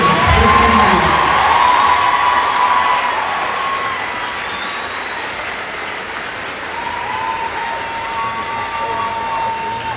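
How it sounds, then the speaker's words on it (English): A large crowd at a high school graduation ceremony claps and cheers loudly, with whoops rising over the applause before it slowly thins and then swells again toward the end. "Please join me in a round of applause for the beginning of this"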